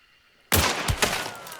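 Pistol gunshots in the video game Hunt: Showdown: a sudden loud close shot followed by two or three more sharp reports in quick succession, with a lingering noisy tail between them.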